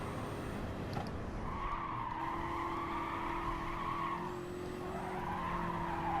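Race car tires squeal and skid under braking in an online racing video game, a sustained high screech over a steady engine drone, loud and continuous with no talk.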